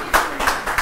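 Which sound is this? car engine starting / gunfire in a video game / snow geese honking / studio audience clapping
studio audience clapping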